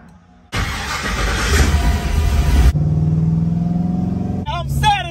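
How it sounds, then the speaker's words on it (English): LS swap engine in an Impala cranks and fires, starting abruptly after a quiet moment into a loud, rough rumble, then settling to a steady idle with a brief blip near the end. "I was able to start my LS swap and I heard it crank."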